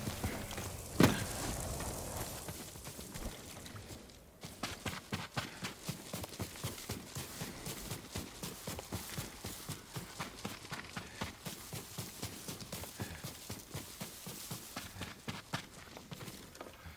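Horse hooves in the Ghost of Tsushima video game clatter in a fast, steady rhythm after a brief opening, a continuous clip-clop gallop at close range with no talk over it.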